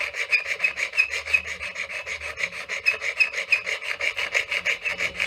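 A hand rasp files across carving stone in steady back-and-forth strokes, roughly four per second, producing a close, gritty scraping with no voices.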